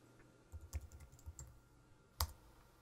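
A few light keystrokes tapped on a computer keyboard, quiet and close, with short irregular gaps between clicks in an otherwise silent room.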